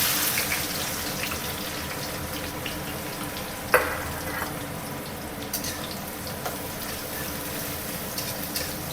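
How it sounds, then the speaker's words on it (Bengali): Sliced onions dropped into hot oil and frying for biryani, a continuous close hiss and crackle with one sharp clatter early on and a few light knocks, no voices. "তেল আমার গরম হয়ে গেছে, এবার আমি পেঁয়াজগুলো ছেড়ে দিই।"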